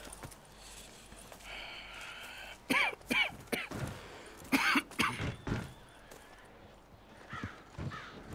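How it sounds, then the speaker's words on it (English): Arthur in Red Dead Redemption 2 coughs in several short, harsh bursts amid outdoor game ambience, with crow caws and horse hooves nearby and no speech. "Why is Arthur coughing so much?"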